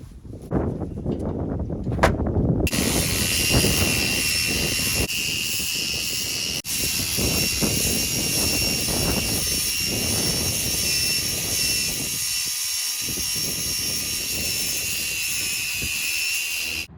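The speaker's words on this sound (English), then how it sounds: "Using the flappy disc on the grinder." Angle grinder fitted with a flap disc sanding fiberglass for a repair, a loud, steady abrasive whine with a brighter high-pitched edge that runs almost continuously after a short start-up, with brief dips in pressure.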